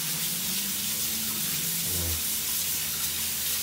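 Potatoes are washed under a running kitchen tap, giving a continuous, fairly loud rush of water with slight splashing changes and no voices.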